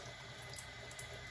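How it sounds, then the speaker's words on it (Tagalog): Water runs steadily from a tap over a hand at a sink, a continuous close splashing hiss with no pauses and no voices. "Pabasain ko lang yung kamay ko ng tubig."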